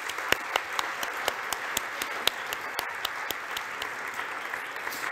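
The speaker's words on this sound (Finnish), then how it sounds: "Suuret aplodit." Applause from an audience at a stock exchange awards gala as a category winner is announced, steady clapping with sharp individual claps standing out, moderately near, no talking.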